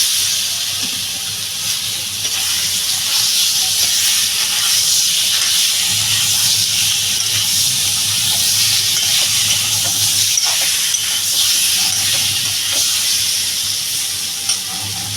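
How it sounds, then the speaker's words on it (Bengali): Taro hits a hot pan for a curry with katla fish, giving a loud, continuous hissing sizzle with rising steam and occasional stirring scrapes, close and steady throughout with no speech. "এবার আমি এই যে কচুটা এটা ঢেলে দেবো"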